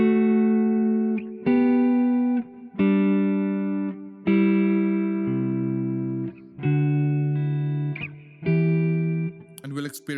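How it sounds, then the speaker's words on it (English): Electric guitar chords ring through a Strymon BigSky reverb pedal, struck one after another in a steady rhythm, each sustaining and decaying with a lingering wash before the next, loud and close. "it takes a while for that reverb sound to kick in"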